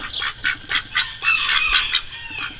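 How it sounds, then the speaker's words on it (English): Domestic ducks kept on a property with horses call in a run of repeated, loud honking quacks close by, several overlapping bursts about every quarter second, with no talking. "Ducks."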